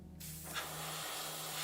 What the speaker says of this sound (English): the airbrush makes this so easy